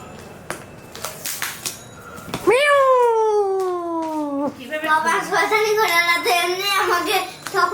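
A child imitates a kitten's meow with the mouth, producing a long drawn-out mew followed by a series of shorter wavering meows, loud and close, after some tapping and brief background talk.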